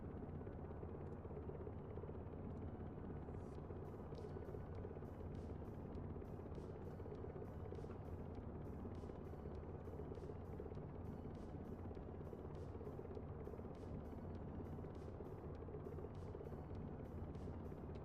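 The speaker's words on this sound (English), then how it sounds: "I'm really happy with this helicopter." A video-game helicopter drones steadily with a constant rotor and engine hum, no talk, with faint rhythmic ticking on top throughout.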